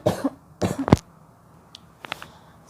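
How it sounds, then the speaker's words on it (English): Three sharp, close coughs in quick succession from a throat dried by cold air conditioning, followed by quieter throat noises and faint clicks after a short pause. "I'm coughing a little bit because the AC is so cold, it just dries my throat"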